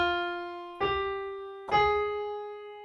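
Two keyboard notes ring out in turn, F then G, the second a little louder, each with a sharp attack and a long sustained harmonic tail, played slowly and alone in a simple piano lesson passage.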